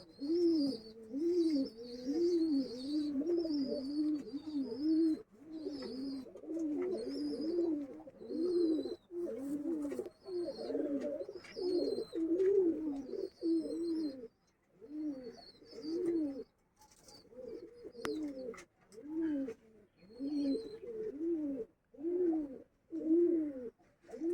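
A pigeon coos over and over in a steady, rhythmic series of low, throaty phrases, close and fairly quiet, with brief pauses between bursts and faint chirps behind; no one speaks.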